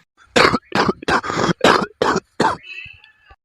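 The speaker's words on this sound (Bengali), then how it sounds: "বাবা যা কাশিটা দিন দিন বাড়ছে" A run of about seven harsh, hacking coughs from a man, in quick bursts, close and loud, ending with a faint wheezy tone.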